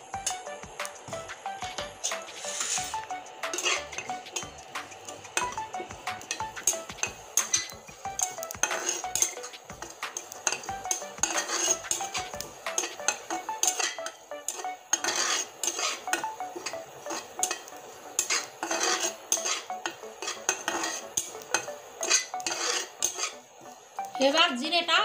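Cumin seeds frying in a hot wok, heard mostly as repeated spoon scrapes and metallic clinks against the pan over a faint background sizzle, with no talk.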